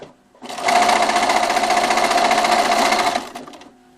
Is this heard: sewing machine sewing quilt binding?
yes